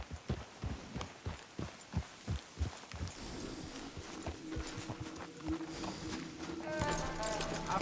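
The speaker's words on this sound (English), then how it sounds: "Let's leave the horses off the road to the right here." Horses in Red Dead Redemption 2 clip-clop at a walking pace, a steady run of close hoofbeats for the first few seconds that then gives way to softer game ambience and faint rustling.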